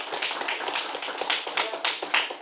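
A classroom group claps together in a quick, fairly rhythmic burst of applause, with close, sharp hand claps repeating steadily and no speech over it.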